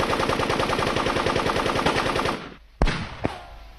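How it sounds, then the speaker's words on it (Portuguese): Sustained rapid machine-gun and rifle fire rattles loudly in a 1970 Italian western film, then cuts out abruptly, followed by a single sharp gunshot and a fainter later report. "Parem de atirar!"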